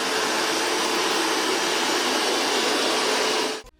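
Roborock Q Revo Master robot vacuum running at maximum suction, a steady loud broadband whoosh with a high whine, close and continuous before cutting off abruptly at the end.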